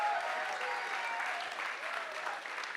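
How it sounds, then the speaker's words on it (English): Warm crowd applause at a Berlin Science Week science slam as contestants come on stage, a full steady roar of clapping with some voices and cheers mixed in, holding even throughout. "Please, with a warm applause, welcome Maryam and Emma, Tobias and Johannes, Gilberto, Memo and Tania here on stage."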